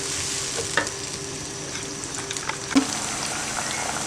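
Onions frying in hot oil in a karahi, a steady close sizzle throughout with a few light clicks from stirring, no talking.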